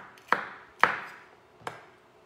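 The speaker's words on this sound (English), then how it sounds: "a sharp knife makes things, especially for chunky chopping," Sharp knife chopping vegetables such as capsicum on a board: three distinct close chops, each a crisp knock with a brief ring, spaced unevenly in a quiet room.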